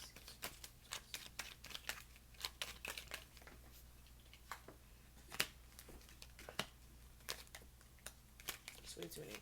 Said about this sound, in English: Let's lay these cards out.